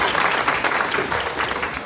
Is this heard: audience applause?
yes